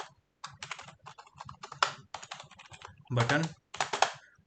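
Clicky keystrokes on a computer keyboard come in quick bursts and short pauses, close and clear. Someone speaks briefly partway through.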